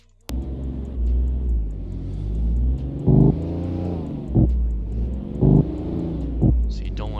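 Modded BMW S55 engine in a video game, a loud close rumbling drone that rises and falls while cruising, broken by several short sharp bursts like launch-control pops, with no voices.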